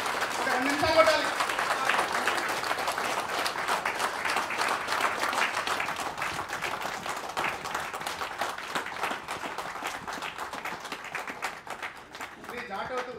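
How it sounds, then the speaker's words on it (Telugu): A gathering of tribal employees gives sustained, dense applause honouring J. Hussain Naik, with many hands clapping loudly for about twelve seconds before it fades and speech begins at the end. "గట్టిగా ఒకసారి చప్పట్లు, గట్టిగా ఒక 2 నిమిషాలు కొట్టాలి"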